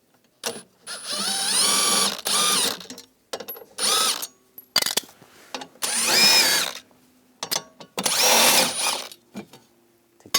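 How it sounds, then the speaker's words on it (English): Power drill bursts driving out bolts with a 10mm socket from an interior panel at the back of a 2010-2017 Chevrolet Equinox, several loud whirring runs of one to two seconds separated by short pauses, close up. "We're going to remove this panel, use a 10mm socket. Take these bolts out."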